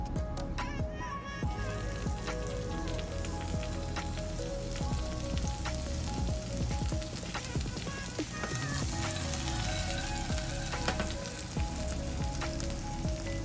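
Garlic sizzles in a pan for Jamaican brown stew fish, a dense, crackling fry that runs steadily throughout, with scattered pops and clinks over it and faint background voice.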